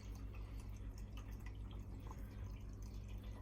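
A Miele Super Tronic W5000WPS washing machine filling with water, a faint, steady trickle and patter of inflowing water over a low mechanical hum.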